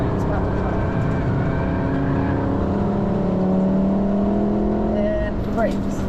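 A car engine revs under heavy throttle on a trackday lap of the Nurburgring Nordschleife, its rising harmonic whine loud and steady in the cabin with a brief shift near the end, while a driver talks over it.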